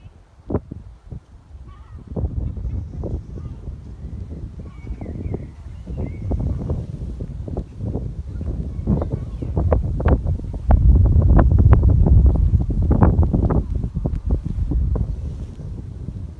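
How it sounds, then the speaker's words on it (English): Strong wind buffets the microphone outdoors, a steady low roar rising into heavy gusts with sharp thumping bursts, loud and close throughout. "See, it's windy."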